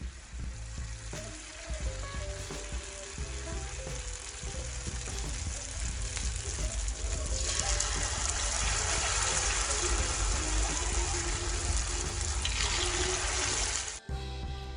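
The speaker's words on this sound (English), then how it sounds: "it is time to fry" Dough for salt fish fritters fries in hot oil, giving a continuous close sizzle and crackle that grows denser partway through and then cuts off abruptly.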